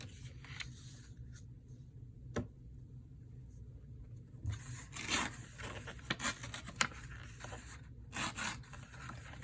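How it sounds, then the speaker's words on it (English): One sheet of paper is laid on another, pressed down and dragged across it to make a wavy pattern for an ocean-themed journal, giving soft, scratchy rubbing and sliding sounds in uneven bursts with occasional sharp rustles. "You just lay it on your paper and pull it, kind of holding it down."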